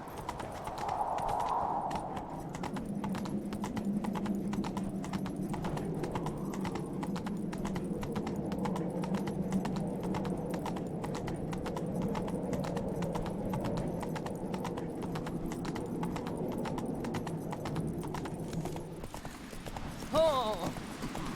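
Steady clip-clop of hooves from Roach, a horse in a video game, trotting in an even rhythm at medium distance, with a brief whinny-like squeal near the end.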